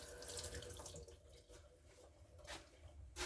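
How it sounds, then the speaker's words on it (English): Kitchen tap running steadily as a spoon is rinsed under it during sourdough English muffin baking, a faint continuous splashing stream with a few brighter spatters, no voices. "Washing out my spoon at the moment."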